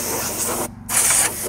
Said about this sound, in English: let's see if we can't blow a few of these bugs out of here